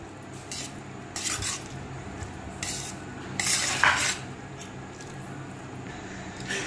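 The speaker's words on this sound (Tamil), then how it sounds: "இப்போ இது கூட கொஞ்சமா கருவேப்பிலை, கொத்தமல்லி ஆட் பண்ணி நல்லா கிளறி விட்டுக்கலாம்." A spoon scrapes and stirs through raw banana rice with curry leaves and coriander in a metal pan, giving intermittent clinks and scraping strokes close up, with no talk.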